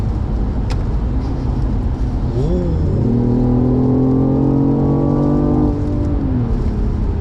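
BMW i8 hybrid sports car accelerating in sport mode, heard from inside the cabin as a steady engine drone that climbs into a rising, whining rev through the gears and then eases off, with no talking.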